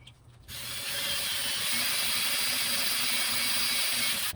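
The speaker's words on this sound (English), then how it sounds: "we'll drill my pilot hole first." A drill whirs steadily after a click, drilling a pilot hole in a laminate butcher block workbench, a continuous high mechanical buzz running for several seconds at close range.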